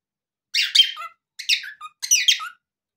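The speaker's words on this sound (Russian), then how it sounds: "Ты, ты хорошая маленькая птичка" A small pet bird chirps in three quick, bright bursts of twittering calls, close and clear against silence, with short pauses between them.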